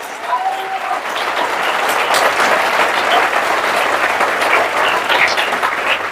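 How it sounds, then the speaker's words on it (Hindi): A seminar audience claps with both hands raised, a steady wash of applause that stays loud and even throughout, with faint voices mixed in. "दोनों हाथ ऊपर करके एक बार दिल खोल के ताली बजाइए।"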